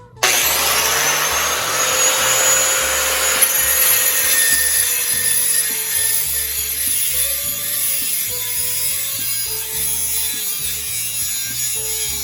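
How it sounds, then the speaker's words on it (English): An old grinder cuts through an old knife handle, a loud continuous abrasive whine and grinding rub that starts abruptly and holds steady for about twelve seconds, easing slightly toward the end, with no talking. "The old grinder here."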